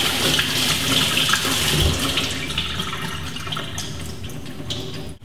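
Cold tap water runs steadily into a strainer of cooked pasta shells, a constant close rush of water that holds for several seconds before cutting off.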